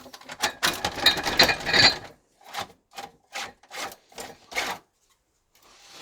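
3D printed PLA kettlebell handles for weight plates, printed on a Creality K1 Max, jangled and rattled together in short clattering bursts: a dense shake followed by several separate plasticky rattles, close and alone.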